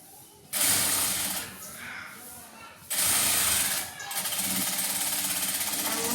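An electric sewing machine stitching a nightie runs in fast, loud, buzzing bursts: about a second, a quieter pause, another burst, then a longer steady run to the end.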